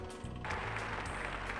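Applause from a single character in the Chibi-Robo video game: a short, steady burst of clapping that runs alone, without speech, at moderate volume.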